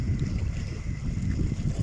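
Strong sea wind buffets the microphone on a fishing trip with a hair-clip lure, producing a continuous low rumble and gusty roar without pause.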